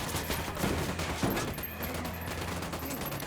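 Gunfire in the tactical shooter Ghost Recon Wildlands, a sustained rattle of rapid shots running through the whole clip with a couple of heavier blasts early on, dense and steady rather than distinct single reports.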